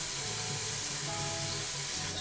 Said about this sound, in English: hope you guys can hear me with this water running